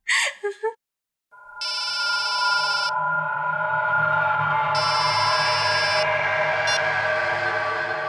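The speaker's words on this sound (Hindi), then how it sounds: "आपका फोन बज रहा है।" A mobile phone rings with bursts of bright electronic tone over a sustained synthetic chord, following a brief spoken exclamation at the start, in a tense crime-drama scene.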